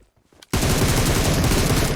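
Sustained rapid gunfire in the PUBG Mobile battle royale game, a dense unbroken burst of shots starting abruptly after a brief quiet moment with faint voices, loud and close throughout.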